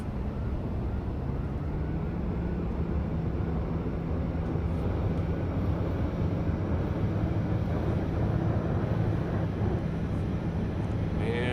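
In the X-Plane 11 flight simulator, a TBM 900 single-engine turboprop drones steadily at takeoff power, a continuous broad roar with a low hum and no talking.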